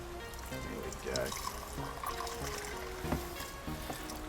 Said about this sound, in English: I am really bad at pouring.